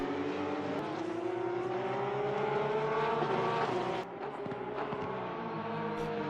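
Porsche Cup race cars in Assetto Corsa Competizione at Barcelona braking into turn 4, with a steady, loud engine drone whose pitch slowly rises, then drops sharply as the cars slow and downshift.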